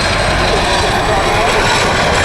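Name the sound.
aircraft flying at Bournemouth Airshow 2015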